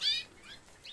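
Birds chirp briefly, with a clear high whistled note at the start and fainter tweets after it, close and fairly quiet over a low background hum.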